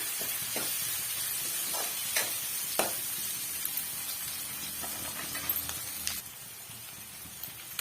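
Ridge gourd and onion sauté in a hot pan with a steady sizzling hiss, broken by occasional scrapes and clicks as the vegetables are stirred.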